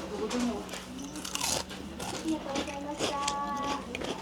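Crispy tempura-fried leaves at a Kyoto eatery are bitten, giving a couple of close, crunchy bites and chewing sounds mixed in with people talking.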